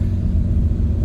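A 2024 RAM 3500 HD with its Cummins diesel engine, towing a 12,000-pound load, gives off a steady, loud low-frequency rumble heard from inside the cab, continuous and even, with no one speaking.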